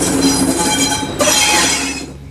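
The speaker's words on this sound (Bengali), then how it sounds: "ট্রেনটা বনগা ঢোকার ঠিক দুটো সিগনাল আগে দাঁড়িয়ে যায়" A train rolls loudly close by, metal wheels grinding and squealing on the rails as it slows, the noise fading toward the end.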